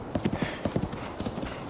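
Horse hooves clip-clopping in Zelda: Breath of the Wild, a quick irregular run of crisp hoof strikes on hard ground, close and distinct, with no talking.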